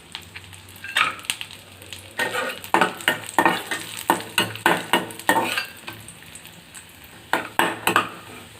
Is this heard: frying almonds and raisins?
yes